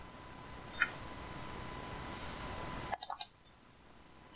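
Computer mouse clicks in a quiet room: one isolated click, then a quick run of three or four crisp clicks close together, and another single click at the end, all near and sharp.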